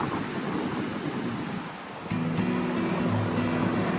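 Steady roar of surf washing onto Lions Beach in Mangalore, continuous and fairly loud, with a few faint tonal sounds entering partway through.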